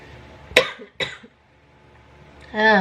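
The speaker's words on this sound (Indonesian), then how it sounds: "Batuk." Two sharp coughs in quick succession, close and loud, followed by a pause and then a voice starting to speak.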